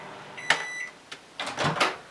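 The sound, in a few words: microwave oven, taking out steamed breast pump parts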